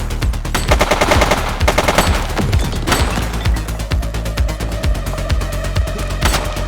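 Rapid automatic gunfire in a police shootout in the video game The Precinct, a loud, dense string of close shots with sharp cracks and echoing tails, no talking.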